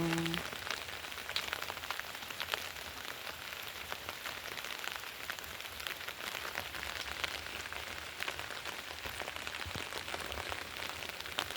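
Steady rain patters continuously on garden plants and closed peony blossoms, a dense, even hiss with scattered drops, no voices.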